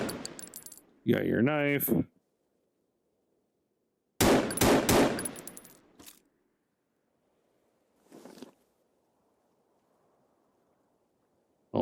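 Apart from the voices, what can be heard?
pistol gunfire in the Artemis video game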